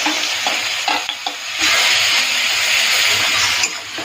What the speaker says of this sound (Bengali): প্রথমে পেঁয়াজটাকে হালকা লাল করে ভেজে নিই